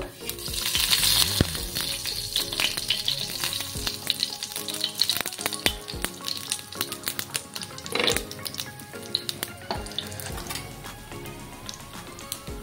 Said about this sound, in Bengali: তেলটাকে ভালো করে গরম করে নিতে হবে। তারপর আমি এখানে কালো জিরা দিয়ে দিব।